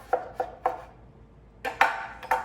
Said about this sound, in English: Okay, so I'm gonna cut this in half.